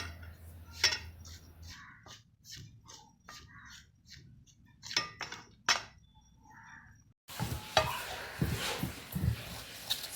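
Wheat flour is stirred into a homemade cake batter with a spoon in a bowl, giving quick clicking taps and soft scrapes close by, followed by a louder, busier stretch of scraping and clatter.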